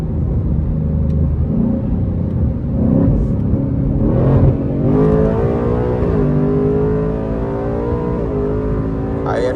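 Ford S650 Mustang on Nitto NT05 tires pulls hard up a hill straightaway, engine note climbing through the gears with a loud, steady roar and a shift near the middle; road rumble underneath, no talking.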